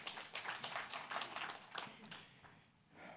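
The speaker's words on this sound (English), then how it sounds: "you can clap" A church congregation claps during a service, a brief round of scattered handclaps at moderate level that thins out toward the end, with a faint lull before a few last claps.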